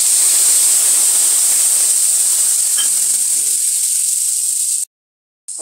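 Mustard paste hits hot oil in a pan for Bengali bhola fish jhal, giving a loud, steady, close hiss and sizzle that holds evenly for several seconds before cutting off abruptly.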